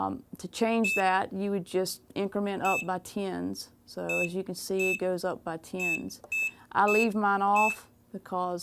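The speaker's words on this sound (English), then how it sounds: "this is beep, which is the sound you're hearing every time I press something" A George Knight heat press control panel gives short, sharp electronic beeps as its buttons are pressed, repeating about half a dozen times under continuous talking.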